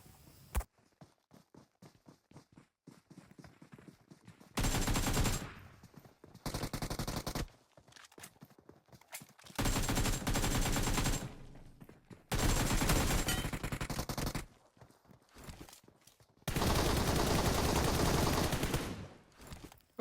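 Shotgun blasts ring out in a squad-based shooter game, coming as several sustained bursts of loud, rapid gunfire separated by quieter stretches of scattered shots and clatter.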